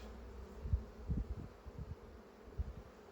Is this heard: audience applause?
no